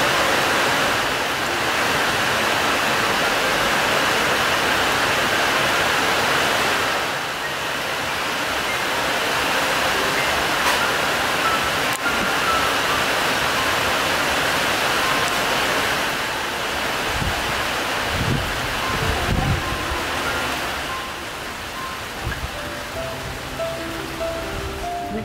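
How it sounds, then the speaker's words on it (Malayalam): Heavy rain pours in a dense, steady roar of broadband noise that holds for the whole stretch and eases slightly near the end, with a few faint low thumps and no voices. "ഇതേമ്പോൾ അതിഗംഭീരമായ മഴ"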